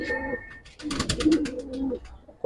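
A pigeon of the Denis breed coos up close, a short throaty rolling call that pulses rapidly for about a second, with a brief higher note before it.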